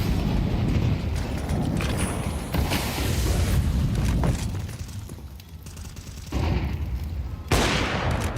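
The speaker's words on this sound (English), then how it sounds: "Instead he falls victim to blind sprays of Blame F" Automatic gunfire sprays in a Counter-Strike match on Overpass during a pro grand final, loud sustained bursts with booming impacts that drop away briefly and return in fresh volleys.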